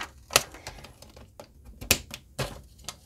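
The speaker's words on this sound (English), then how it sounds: "I'm just going to trim the bottom of this one off instead of doing any kind of like folding or anything." Ledger paper being trimmed for a junk journal gives a handful of sharp, separate clicks and snaps spaced about half a second apart, close and fairly quiet, with near silence between them.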